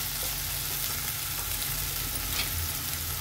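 Ground masala paste sizzles steadily in hot oil as it is sautéed for spicy misal pav, a dense, continuous close frying hiss with no talking.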